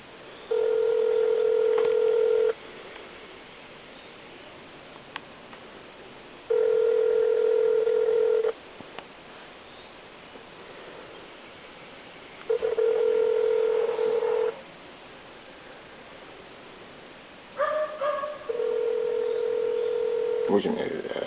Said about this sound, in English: she's going to call Jeff Cooper, whose phone is in the Faraday cage